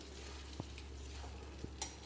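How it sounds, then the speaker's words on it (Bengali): Chicken cooking in a pan gives a steady, low sizzle throughout, with a few soft clinks of utensils against the pan. "দেখো বন্ধুরা, এই দেখো, এটা চিকেন রান্না হচ্ছে"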